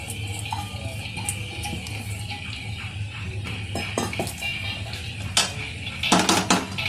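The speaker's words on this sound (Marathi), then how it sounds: "टाकलेले चुरमुरे चांगले जीव मिक्स करून घेऊ" A spoon scrapes and clinks against a pan as puffed rice is tossed with coriander powder. The steady metallic stirring stays close, with a brief louder rattle near the end.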